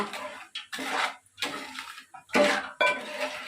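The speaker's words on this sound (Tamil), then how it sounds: "நல்லா கிண்டி விடணுங்க" Metal spoon stirring sugar into heating water in a pan on the stove, giving several bursts of scraping and clinking against the pan, close and fairly loud, with short pauses between strokes.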